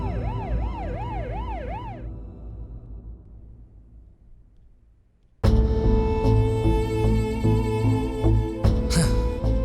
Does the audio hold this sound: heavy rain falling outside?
no